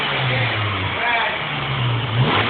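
A car engine revs in short, rising pulses with a harsh rumble that points to a muffler fault, and voices are heard close by over the engine.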